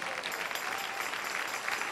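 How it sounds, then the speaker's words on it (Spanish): Steady, dense applause from a church congregation at an evening worship service, a continuous wash of many hands clapping at even loudness throughout, with no talk over it. "Dale un aplauso al Rey en esta hermosa noche."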